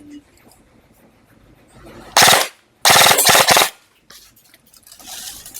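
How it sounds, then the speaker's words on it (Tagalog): A Helion M-Lock 9-inch gun is test fired on full auto in two rapid, loud, close bursts of rattling shots, the second longer, with quiet gaps and faint background noise around them. "Helion M-Lock 9-inch. Test fire."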